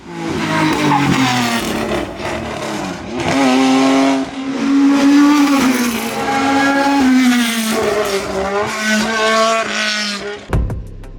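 Historic race cars at an FIA hill climb championship in the Alps scream past in quick succession, engines loud and near with rising and falling revs and gear changes, a sharp cut at the end.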